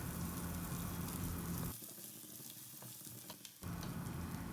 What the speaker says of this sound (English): we'll saute the onions and garlic until the color changes.